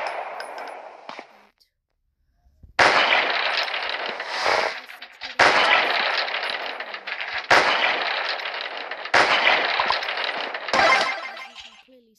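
A .50 caliber sniper rifle in the wall-defense FPS game Titan Attack fires about five loud, sharp shots spaced a couple of seconds apart, each with a long, noisy tail that nearly fills the gap before the next.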